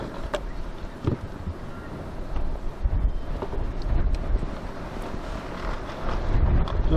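Strong wind gusts across the microphone outdoors beside a Land Rover Discovery 2, a steady moderate rumble that swells and eases with occasional sharper thumps and knocks.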